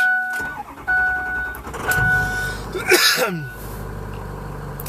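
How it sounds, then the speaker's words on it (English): Pickup truck with a freshly repaired exhaust starts up and idles close by, a starter crank and sharp catch followed by a steady engine rumble with some mechanical clatter. "Now we fired our truck up, see if we got the exhaust vibration fixed."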